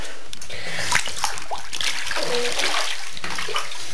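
Water pouring to fill a pool in the Webkinz video game, a continuous splashing, sloshing rush with small splatters, loud and close, heard alone.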